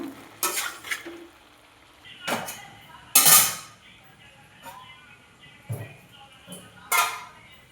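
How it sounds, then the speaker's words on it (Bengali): A pot lid lifted off boiled papaya and potatoes in a home kitchen, giving a few clattering metal knocks and scrapes with one louder clank, close and fairly sharp amid quiet room noise. "ঢাকনা খুলে দেখছি সিদ্ধটা হয়েছে নাকি।"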